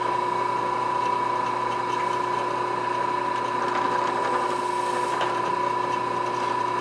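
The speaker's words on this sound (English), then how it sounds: "I'm doing this on the drill press because this plastic is really hard." A drill press bores holes through very hard plastic for a woodworking patio chair build, making a steady, loud, continuous mechanical whine and grinding that holds for the whole stretch.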